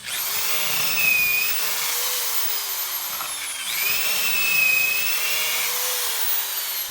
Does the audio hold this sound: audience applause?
no